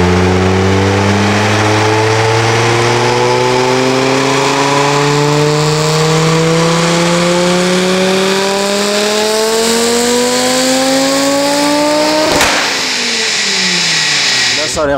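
A heavily tuned Audi S2 turbocharged five-cylinder pulls hard under boost, its loud droning note rising steadily for about twelve seconds before the throttle snaps shut with a sharp burst, then a falling tone. Faint voices sit beneath it.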